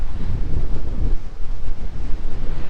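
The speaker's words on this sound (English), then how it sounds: "And that wind's actually swinging southeast. That's the southerly that's was forecast to come through, and it is here now." A southeasterly wind gusts hard across the coast of K'gari (Fraser Island), buffeting the microphone in a continuous low roar with surf faintly underneath.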